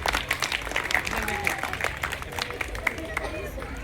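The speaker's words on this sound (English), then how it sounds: "Round of applause for the people." Audience clapping at a school spelling bee competition, a steady wash of applause with crowd babble mixed in, fairly loud and continuous throughout with scattered sharper claps.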